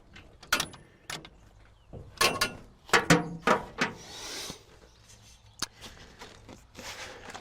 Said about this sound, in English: take a box end wrench and continue to tighten the nuts and the bolts that were on the header